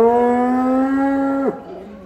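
A giant cow being unloaded from a truck lets out one long, loud, steady moo that drops off abruptly at the end, close by.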